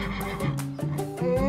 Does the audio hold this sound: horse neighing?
yes